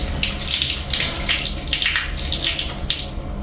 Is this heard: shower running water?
yes